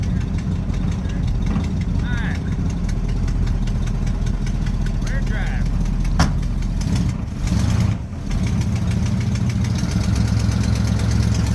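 Engine of a restomodded 1968 Ford Mustang running at a steady idle, a low rumbling drone that continues evenly, with people talking over it.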